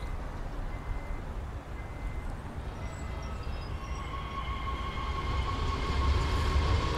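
German train departing in a railway simulator game: a steady, loud rumble of the train pulling away, with whining motor tones rising and building in level toward the end, no talking.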